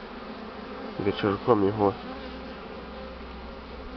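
An early-season honeybee swarm hums steadily and closely throughout, with someone speaking briefly over the buzzing partway through.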